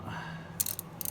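Ratchet backing a spark plug out of a Toyota FJ Cruiser, heard as a few quick, close clicking bursts within about half a second.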